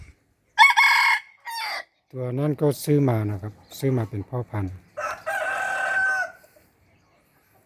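A bantam rooster crows loudly twice, once near the start and again after a stretch of someone talking between the calls.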